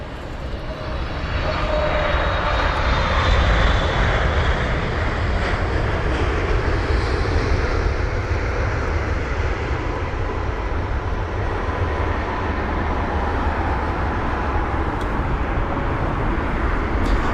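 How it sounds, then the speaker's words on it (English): An ANA Boeing 777-300ER landing at London Heathrow, its jet engines a loud steady roar that swells and holds for the whole stretch with no talking. "That's going to be the 777-300ER with the reg Juliet Alpha 797 Alpha from Tokyo."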